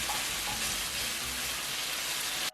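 Steady, dense sizzling of chicken frying in an oiled pan, continuous and close, with no voices over it until it cuts off at the end.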